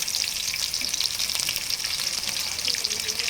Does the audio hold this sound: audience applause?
no